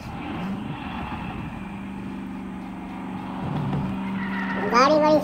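Off-road racing cars speeding in the Exion Off-road Racing video game, engine drone and revving with a brief tyre screech, under someone talking.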